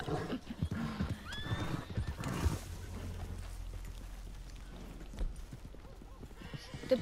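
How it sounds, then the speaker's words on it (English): A horse in Red Dead Redemption 2 neighs and whinnies amid clip-clopping hooves, with rising whinny calls early and scattered hoof thuds throughout, while a player talks over the game sounds. "My horse is dragging me."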